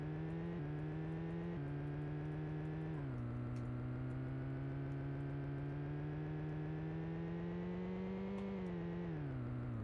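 A steady, droning car engine from an Amiga racing video game hums continuously, shifting pitch slightly as it changes gear, low in level with no talk over it.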